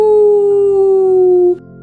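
A voice imitates a wolf howling at the moon: one long, loud, steady howl held for about a second and a half, then cut off abruptly.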